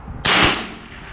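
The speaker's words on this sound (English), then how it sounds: "I'm going to shoot at the bullseye again" A single sharp rifle report at an outdoor 50-yard bench rest range, loud and close, with a quick burst that trails off into a short decay.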